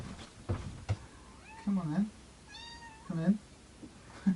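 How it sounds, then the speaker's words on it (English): A cat meows twice, each a clear, rising-then-falling mew close by, while a person speaks briefly around the calls. "Who's meowing?"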